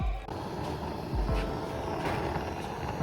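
A Honda Civic engine idles steadily after being started, a continuous low rumble with broadband noise, close and fairly loud throughout without talk.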